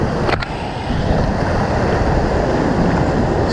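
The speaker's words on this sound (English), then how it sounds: "these waves are getting crazy" Ocean waves crash on the beach at Moreton Island in a loud, continuous roaring wash, heavily mixed with gusty wind buffeting close to the microphone.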